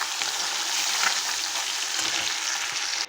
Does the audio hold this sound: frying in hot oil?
yes